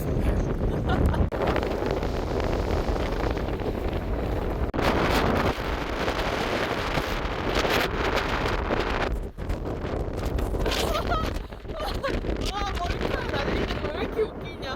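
Strong gale-force wind buffets the microphone at Woljeong-ri beach on Jeju, with roaring gusts and surf noise continuing without letup across the whole stretch, while a person talks underneath.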